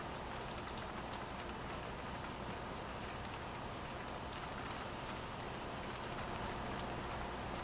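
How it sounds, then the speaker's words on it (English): Steady rain falling in the farming video game Farm Simulator, a dense continuous hiss of drops spread evenly across the whole stretch with no voices over it. "Oh, well, it's raining."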